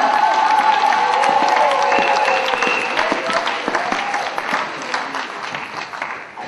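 A church congregation loudly acclaims and applauds the Lord, with dense sustained clapping and cheering voices that hold steady and then slowly ease off.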